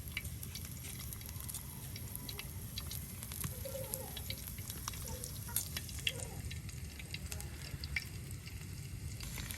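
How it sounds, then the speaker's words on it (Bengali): Garlic frying in a pan for bitter gourd fry, a quiet crackling sizzle with faint pops and occasional stirring, fairly distant and low in level. "রসুনটা ভাজা ভাজা হইতেছে"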